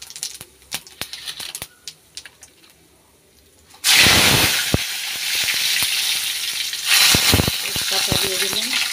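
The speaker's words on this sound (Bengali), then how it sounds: "তেলটা গরম হয়ে গেছে, এখন জিরেটা দিয়ে দেব।" Cumin seeds dropped into hot oil start a sudden, loud, close sizzle that stays steady and roaring, after a quieter stretch of light kitchen clicks and taps.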